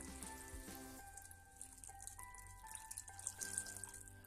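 Water poured into a pan of simmering radish and tomato curry, a faint continuous splashing trickle with light bubbling and dripping, steady throughout with no voices.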